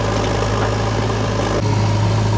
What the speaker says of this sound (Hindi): तो भाई ये 735 चल रहा है।